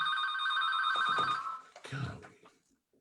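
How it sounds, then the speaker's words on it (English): A telephone bell rings loudly and close for about a second and a half during an indoor talk on finding peace in a fractious nation. It stops and leaves brief rustling and handling sounds. "I don't know how to cut the ringer off on this phone"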